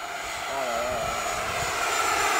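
A Mustang model airplane roars past in a steady, loud engine drone with a slight pitch sweep as it passes, heard alone at an airfield runway.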